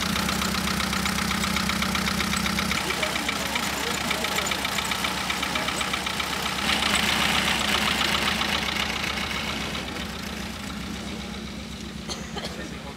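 A small moped engine runs steadily with a buzzing, rattling drone throughout, rising slightly in the middle and easing toward the end.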